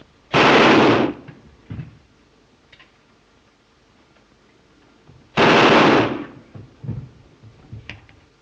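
In a 1930 film, two loud, separate bursts of rapid gunfire about five seconds apart, each followed by a few quieter clicks and thuds.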